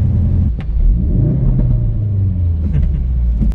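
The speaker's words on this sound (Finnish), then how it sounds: "Kaasu kun antaa vähän niin poksuu takana, mikä on aina hyvä juttu." A Ford Focus RS drives on a road with a deep, steady engine rumble filling the cabin, broken by a few sharp exhaust pops and crackles.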